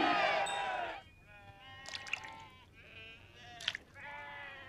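Sheep bleat in a livestock scene from a dramatized film about Abraham's life, where camels and sheep are being lined up: a few wavering cries come at moderate distance over a steady background murmur.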